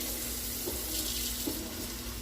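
Tap water pours steadily into a pot in a home kitchen, a constant close splashing rush at low volume with no talking.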